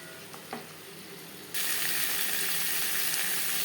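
After a quiet moment, potatoes and onion hit hot oil with spices and break into a loud, sudden sizzle that holds steady to the end.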